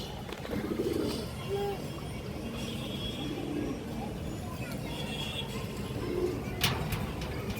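Soft pigeon cooing, including a red khaki hen among the stock, comes in scattered low bursts beneath ongoing talk and passing traffic noise.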